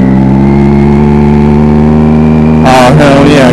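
A Triumph Daytona 675R track motorcycle idling close by, a loud, steady engine drone with strong low harmonics, followed by a brief rough rev near the end.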